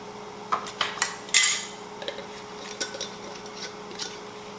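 Glass canning jars and their lids being handled while preparing for home canning, giving a series of light clinks and clatters, one sharper rattle, then softer scattered taps, close and alone.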